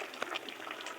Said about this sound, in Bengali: মিষ্টি কুমড়ার ছোকাগুলো সিদ্ধ করতে দিয়েছি, ভেতরে ভালোভাবে ধুয়ে সিদ্ধ করতে দিয়েছি